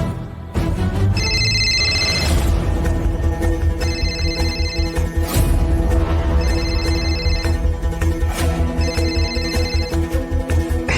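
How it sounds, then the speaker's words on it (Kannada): A phone ringtone trills in repeated bursts over a loud, steady musical background, each ring cycle recurring every few seconds through an indoor TV drama scene. "ಇನ್ನೊಂದ್ಕಿಂತ ಫೋನ್ ಬಂತು"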